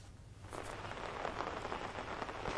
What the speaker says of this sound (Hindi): देहरादून में अगर सुबह से बात करें, अभी लगातार बारिश जारी है